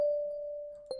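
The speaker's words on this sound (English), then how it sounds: "every time the bass note hit on the piano, this bell sound would hit" A shimmery synthesized bell accent made in FL Studio, a single sustained tone with reverb and delay ringing steadily and fading slightly, then struck again near the end.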